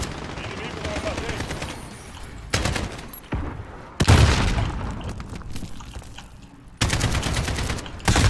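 Rapid automatic gunfire bursts in the video game Call of Duty Modern Warfare, loud close rattling volleys broken by short pauses and a booming impact, with a player's voice faintly mixed in.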